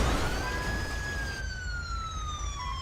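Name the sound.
ambulance siren in LSPDFR (GTA V) video game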